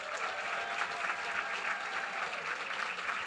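Steady audience applause for Linda Perry at a Grammy Museum event, a dense, even wash of many hands clapping at moderate distance with no speech.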